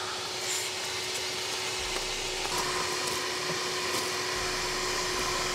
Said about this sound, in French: Aspirateur.